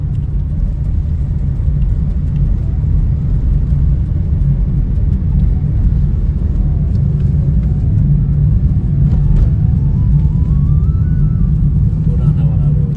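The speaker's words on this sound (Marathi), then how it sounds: "आता आपण त्या खुनी नाला टनेल मधनं जातोय" Steady, heavy low rumble of a car engine and road noise, constant and enclosed throughout, with no talking, driving through the Khooni Nala road tunnel on the way to Kashmir.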